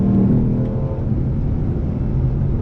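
A 2020 Lexus RC F on the Gingerman Raceway track gives off a steady, loud engine drone with a low rumble and a faint rev at the start. It holds an even level throughout with no talk.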